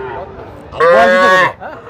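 A calf or young cow at a cattle market lets out one loud, close, drawn-out moo lasting under a second, preceded and followed by faint low background murmur.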